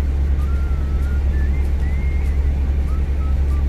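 A truck with a worn-out clutch and failing transmission idles in gear, giving a loud, steady low engine rumble with a faint wavering whine above it and no talking.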